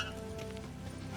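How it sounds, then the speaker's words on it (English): Horse hooves running in the video game Witcher 3, a steady low rhythmic clatter of galloping that fills the short stretch at an even loudness, with game ambience underneath. "Come on, horse."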